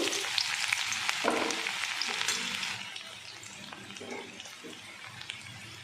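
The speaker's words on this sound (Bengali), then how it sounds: "আদা রসুনের কিমাটা দিয়ে দিয়েছি। এটা একটু লাল লাল করে ভেজে নেব।" Minced ginger and garlic frying in the leftover oil from fried chicken for chicken Manchurian, a close hiss and sizzle that is louder at first and then settles to a softer, steady crackle, with no one talking.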